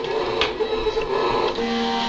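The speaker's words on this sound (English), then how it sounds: "And I click cut and send it to my printer." A cutter plotter drawing an image with a pen on thin paper makes a steady mechanical whir with small ticks and motor shifts, close by and running alone.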